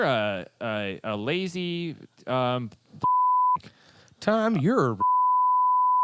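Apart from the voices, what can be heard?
censor beep over swearing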